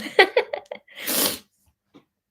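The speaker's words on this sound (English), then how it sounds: "I'm gonna sneeze right now." A few quick, sharp inhaled gasps build up, then one loud, breathy sneeze bursts out close by, followed by quiet.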